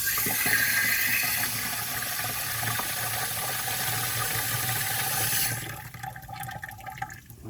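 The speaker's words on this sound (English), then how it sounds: "I set my hose on soaker." A garden hose set to its soaker setting pours water onto a lawn in a steady, dense hiss that runs for about five seconds, then cuts off, leaving faint trickling behind.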